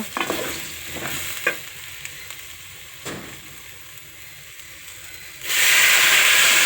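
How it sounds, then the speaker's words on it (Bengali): A spoon stirs a hot pan with a few scrapes and knocks over a low sizzle, then water goes in and a sudden loud, steady hiss of steam and sizzling takes over at the end. "দেখো এবার আমি জল দিয়ে দেব।"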